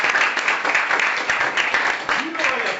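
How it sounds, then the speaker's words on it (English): An audience claps for honored guests at a live-streamed event, brisk uneven applause heard under and alongside talking voices. "Please, let's clap."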